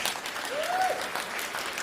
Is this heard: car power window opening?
no